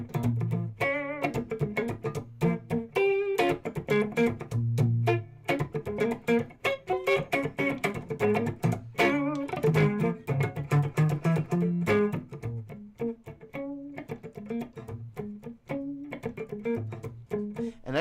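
Dry electric guitar with no reverb, busy rhythmic strumming and picking with crisp, scratchy attacks and short choked notes, steady and fairly loud throughout.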